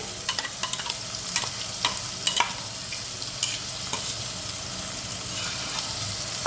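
Onion and masala paste for a village-style chicken biryani frying and being stirred in a pan, a steady sizzle broken by scraping clicks of the spoon, close and continuous with no talk.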